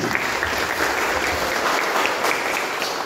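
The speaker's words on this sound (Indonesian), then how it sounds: "tepuk tangan yang paling panjang buat Anda yang memilih untuk berorganisasi" Sustained applause from a large crowd at a university campus event, dense and even clapping that continues steadily without letting up.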